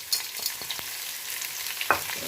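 Onions frying in a pan for a Kerala-style chicken roast, alongside green chillies and garlic: a steady broadband sizzle with a few short scraping stirs and one sharper clank near the end, no talking.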